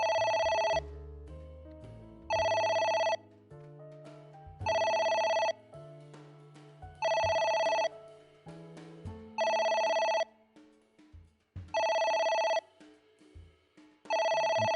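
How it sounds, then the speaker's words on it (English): An in-game telephone in Ai: The Somnium Files rings in loud, regular bursts roughly every two and a half seconds, with quiet background music playing between the rings and no talking. "Intensely look at the phone and just wait for it to stop."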